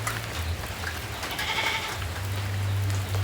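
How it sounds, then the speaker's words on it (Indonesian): Goat bleats in a video game, a noisy in-game goat calling over steady low background hum and ambient game sound, with no talking. "Kenapa kambing tuh sangat berisik?"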